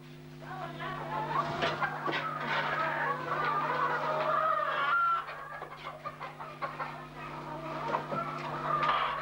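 Inside a school henhouse holding about 2,500 laying hens, many birds cluck and murmur together in a busy, continuous chorus, with individual calls rising from the flock.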